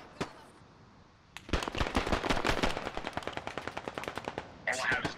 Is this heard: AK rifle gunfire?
yes